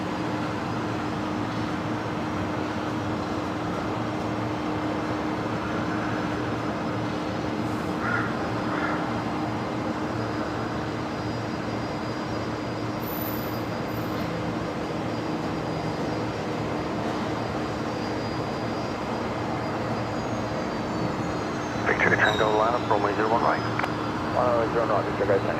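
A Qatar airliner arrives on runway 01 right at Brisbane Airport as a steady, distant jet roar, with a few bird caws near the end.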